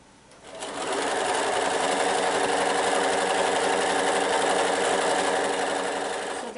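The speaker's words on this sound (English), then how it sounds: "sewing these two pieces together, right sides together" A sewing machine runs steadily, stitching two quilt fabric pieces right sides together for a steeple and roof block, a continuous loud mechanical whir from start to finish.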